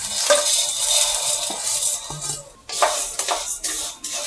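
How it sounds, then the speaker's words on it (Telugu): Vermicelli (semiya) frying in ghee in a pan for semiya payasam, a steady close sizzle with scraping and stirring strokes against the pan, no talking. "మళ్ళీ స్టవ్ ఆన్ చేసి ఇంకా కొద్దిగా నెయ్యి వేసుకొని మనం తీసుకున్న బ్యాంబీనో వేసి ఫ్రై చేసుకుందాం"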